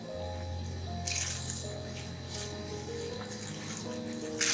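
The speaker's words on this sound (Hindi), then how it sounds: "मैं इसके अंदर चावल डालूंगी।" Soaked rice is tipped into a pot of boiling water for mutton pulao, giving soft wet splashes and drips over the low steady bubble of the water, faint and close.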